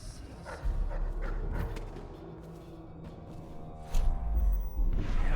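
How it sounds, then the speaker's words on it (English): A dog in the Dishonored video game barks and yips a few times over a low rumbling game ambience, the calls fairly close and mixed with occasional whooshing movement. "Not gonna kill the dog"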